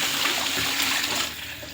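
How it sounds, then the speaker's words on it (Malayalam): Water poured onto lightly fried onions in a cooking pot while making ghee rice, a steady rushing splash that fills the whole moment and eases slightly toward the end, close and fairly loud with no talking. "സബോള റെഡി കഴിഞ്ഞാൽ വെള്ളം ഒഴിച്ച് വെക്കാം"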